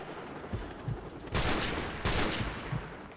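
Gunfire in the game Modern Warfare Remastered: two loud broadband bursts, with a few lighter, shorter shots scattered among them over steady background noise.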